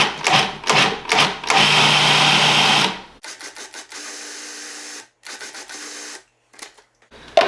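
A food processor pulses fermented mustard seeds with salt: several short whirring bursts, then a longer loud grinding run, followed by quieter, choppy motor noise close by with no talking.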